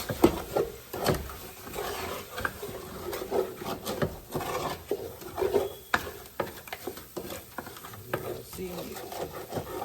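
A spatula scraping seasoning back across a pan while cooking rib chops, with repeated short rasping strokes of gritty, uneven scraping close by and a few clinks.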